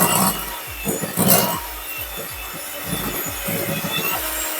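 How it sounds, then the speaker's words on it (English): A hand whisk mixes sugar into butter for blueberry muffins in a quick, regular run of close scraping and thumping strokes against a bowl. "At this point, I'm going to use my hand whisk."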